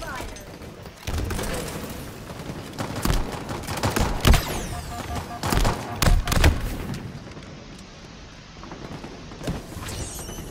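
Halo gunfire crackles in bursts with heavy thuds and booms, loud and busy, while a voice speaks briefly underneath.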